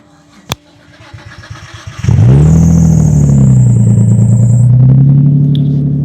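A 90s JDM car engine cold starts: a short crank, then it catches and settles into a loud, steady idle close by, with a faint whine above it.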